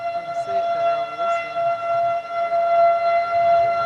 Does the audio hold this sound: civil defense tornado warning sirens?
yes